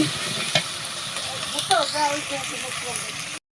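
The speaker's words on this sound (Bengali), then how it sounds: "এই সব ময় মশলা কষাইতেছি" Ginger, garlic, bay leaf, cardamom, cinnamon, turmeric and chili frying for a curry, a steady close sizzle with stirring scrapes over it, ending abruptly.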